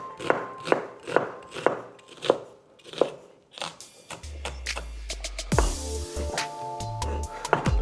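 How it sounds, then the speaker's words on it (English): A knife chops onions finely on a board in a home kitchen, a quick run of about ten crisp, rhythmic knocks, followed by clattering and a shift to busier kitchen noise. "let's start off with these onions. Just cut them up nice and fine"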